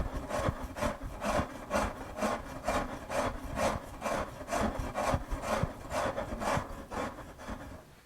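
A rasp files wood during sculpting, with rhythmic two-handed strokes producing a close, coarse rubbing sound, about one pass per second, with no one talking.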